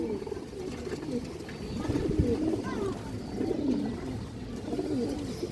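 Old-bloodline pigeons coo steadily in a low, rolling murmur, several birds overlapping close by with no pause across the stretch.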